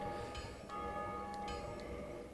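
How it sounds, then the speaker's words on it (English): A bell tolls in the video game Dark Souls, a few faint metallic strikes ringing out over a low, steady game ambience. "I don't know if that bell ringing meant someone was about to come"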